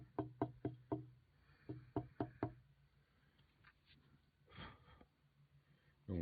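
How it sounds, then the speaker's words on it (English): Sharp wooden taps of an old walking stick being knocked to settle sawdust filler, a quick cluster of close knocks, then a second burst, followed by faint rustling and a soft breath. "going to give it a little tap to make it settle in"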